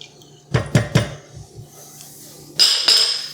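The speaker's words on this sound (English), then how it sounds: "I'm going to stir it up a little bit because I put that salt in here" A spoon clatters against a ceramic rice cooker bowl as rice and salt are stirred: three sharp knocks close together, softer scraping, then a bright ringing clink near the end. The sounds are close and stand alone without talk.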